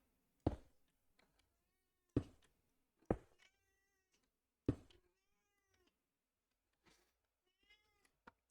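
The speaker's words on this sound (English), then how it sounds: "My cat is being super annoying this morning." A domestic cat meows several times indoors, loud sharp calls spaced irregularly with quiet pauses between, fairly close, with faint background sound and no talking.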